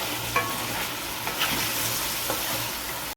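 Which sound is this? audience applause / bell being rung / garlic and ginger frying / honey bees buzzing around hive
garlic and ginger frying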